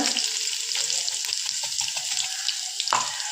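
Mustard seeds, cumin, garlic and asafoetida spit in hot oil with a dense, continuous sizzle and occasional stirring scrapes, close and fairly loud.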